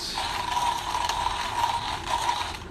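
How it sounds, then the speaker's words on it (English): A coffee grinder grinding beans for a pour-over brew, a continuous close, gritty mechanical whir with a rasping, ratchet-like texture holding steady throughout, alone with no talking. "And let's grind away."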